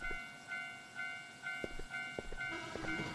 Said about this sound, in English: Oh, it's a train.